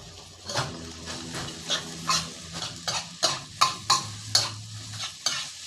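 A spatula scrapes and tosses rice mixed with shrimp paste, chopped egg and mackerel in a hot pan, giving about a dozen rhythmic metallic scrapes over a soft, steady sizzle, close and fairly quiet.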